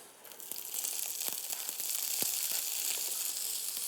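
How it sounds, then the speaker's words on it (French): Small vegetables glazing in butter with spring onions give a steady, close sizzle with a few light clicks of stirring, alone without talk. "avant de les glacer dans du beurre avec les oignons nouveaux"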